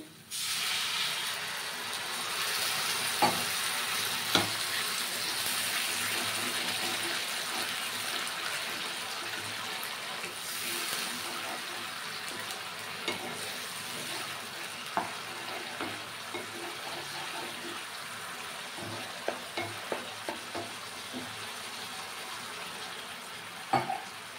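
Water poured into sizzling fried spice paste for a Bhola fish curry, a steady close hiss and crackle of frying throughout with occasional sharp pops and stirring clinks.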